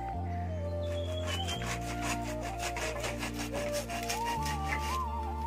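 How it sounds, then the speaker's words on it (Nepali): Bamboo being sawn by hand in a village garden, a quick series of rhythmic rasping strokes over a steady tonal musical background. "यहाँ भाइ चाहिँ परेङ काट्दै रहेछ"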